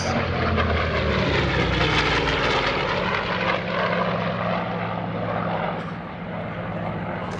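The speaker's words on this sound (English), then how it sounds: "Here's the Corsair on another high-speed" A Corsair propeller plane roars past at high speed at an airshow, its loud engine drone and shifting pitch filling the air before slowly fading as it moves away.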